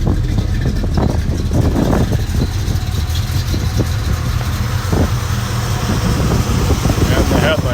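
A 1969 Chevrolet Chevelle with only 400 miles idles smoothly close by, a steady low engine rumble running throughout while people talk faintly nearby.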